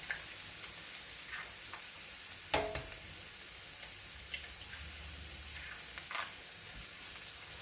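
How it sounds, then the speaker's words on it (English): Eggs are cracked into frying polk salad greens cooking in grease, a low steady sizzle beneath a few sharp taps and clinks from the pan, close and fairly quiet. "And then we're going to add our eggs"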